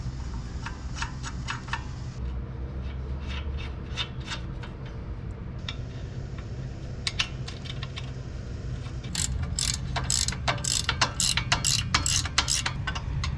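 A hand ratchet clicks in quick bursts while tightening locking nuts on a vehicle axle mounting plate, with metallic rattles and taps over a low steady hum, the clicking growing louder toward the end.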